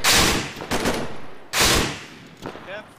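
Enemy gunfire in the military shooter game ArmA 3: loud, close bursts of rapid shots come in two heavy volleys, with scattered fainter rounds and echoing cracks between them.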